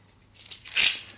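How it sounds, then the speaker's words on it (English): A strip of tape being torn for a stencil, one quick close rip that swells briefly and stops, heard alone without talk. "So I'm going to put a bit of tape like I did there"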